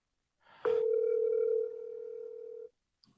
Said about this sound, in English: I'm calling Mike Night Strike.